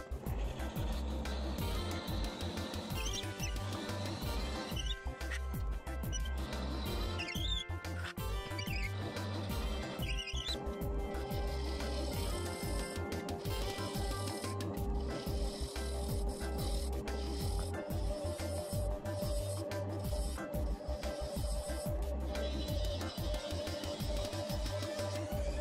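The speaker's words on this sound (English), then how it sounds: "I'm going to do this at 250 RPM with a 1-inch Forstner bit." A 1-inch Forstner bit bores into wood turning on a lathe at 250 RPM, a steady close mechanical hum with grinding, chattering cutting noise throughout and no talking.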